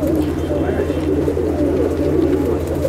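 Andhra breed pigeons in a loft in West Bengal coo steadily, a continuous low throaty murmur from several birds close by, with a faint background hum and no clear talk.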